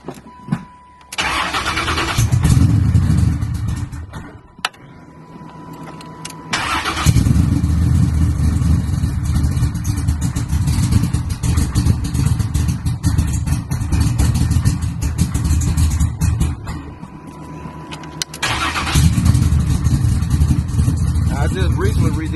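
A car nicknamed Big Meat with a brand-new all-aluminum exhaust starts and runs, cranking then settling into a loud, deep rumbling idle that cuts out and restarts, with a few short gaps and occasional chimes.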